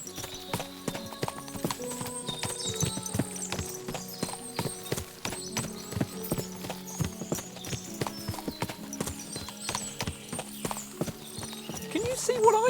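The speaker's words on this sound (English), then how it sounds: "What a lot of horses!" Many horses in Kingdom Come: Deliverance II trot with dense, overlapping clip-clop hoofbeats, steady and close, while voices murmur underneath.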